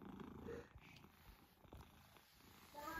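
A contented pet cat purrs close up, a soft continuous rumbling vibration that swells and eases with its breathing, faint and steady throughout.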